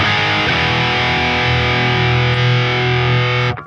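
A distorted electric guitar through a Neural DSP Fortin Cali amp simulation, miked with a 421, holds one loud sustained chord that rings steadily before cutting off abruptly.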